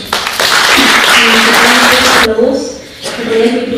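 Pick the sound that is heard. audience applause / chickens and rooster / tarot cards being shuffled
audience applause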